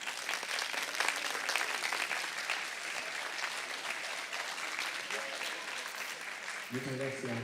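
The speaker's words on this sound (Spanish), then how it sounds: "te vamos a brindar, y lo vas a escuchar por el micrófono, un fuerte aplauso" Dense audience applause at a book launch during a book fair fills the clip at a steady level, then a voice starts speaking near the end as the clapping continues.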